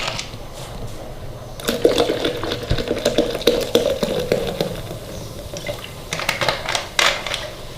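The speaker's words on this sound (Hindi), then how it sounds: "मैं इसके अंदर स्प्राइट और डालूंगी।" Sprite poured into a ground mint margarita mix in a glass: a fizzy, splashing pour with crackling bubbles, growing busier midway and again toward the end.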